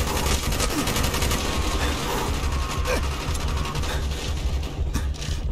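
Gunfire in the video game Call of Duty Black Ops, heard as dense, continuous rapid-fire bursts at a loud, steady level with clattering mechanical rattles throughout.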